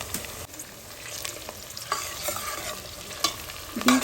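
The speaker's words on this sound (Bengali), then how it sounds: "বিনসটা দিয়ে একটু ভেজে নেব" Green beans and chopped onion fry in a hot pan for a fried rice dish, a steady close sizzle broken by scraping stirs and a few sharper clacks of the utensil, with no talking.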